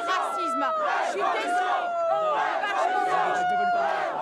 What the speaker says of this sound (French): Huée par la foule